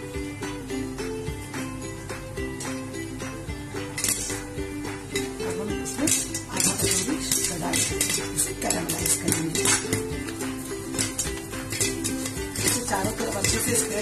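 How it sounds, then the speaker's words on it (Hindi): Popcorn popping in a covered pan on the stove while caramel is being made, heard as dense irregular pops and clinks over a steady sizzling and clattering background across the whole stretch. "यहाँ देखिए हमारे पॉपकॉर्न भी कैसे अच्छे से बन रहे हैं, आपको आवाज आ रहा है।"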